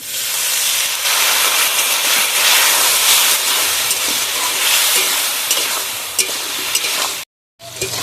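Potato and lentil-bori curry hisses and sizzles loudly in a frying pan as water is added, a dense steady steam roar that holds for about seven seconds before a brief cut, with no voices.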